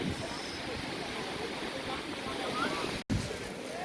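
Ocean surf on a Jamaican beach near Dunn's River Falls: a steady broad wash of waves and wind noise, fairly loud and continuous, with a brief dropout near the end.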